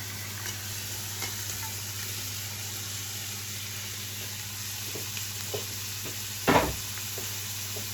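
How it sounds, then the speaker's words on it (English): Onions, peppers and celery frying in a hot pan, a steady soft sizzle running throughout, with faint stirring scrapes and one louder clatter near the end. "First we're going to fry the onions, the peppers and celery."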